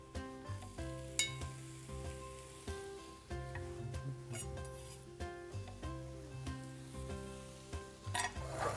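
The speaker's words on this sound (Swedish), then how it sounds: "Så jag har varm panna här. Då brukar jag börja med lite olja." Onions fry in oil in a hot pan for biff Rydberg, giving a steady crackling sizzle under clear tonal sounds in the background, with a few sharp clicks along the way.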